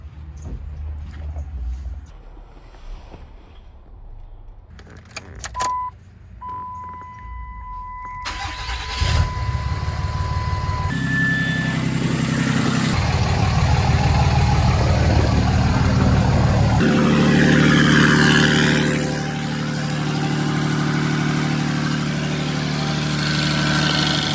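A Dodge Ram 2500 with a 5.9L Cummins diesel cranks and catches after a few seconds of quiet, then settles into a loud, steady, rattling idle close by.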